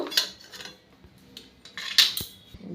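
Two steel plates are picked up and handled before setting jaggery peanut candy, giving off a few close, bright metallic clanks and rattles with quieter gaps between them.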